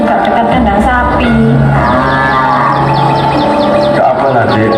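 Cows moo near a cattle shed as a drama sound effect: several drawn-out, loud bellows overlap through the clip, with faint bird chirps in the background.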